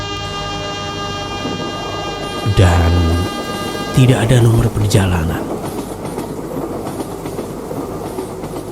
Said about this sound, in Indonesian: sebuah kereta tua muncul dari balik tikungan.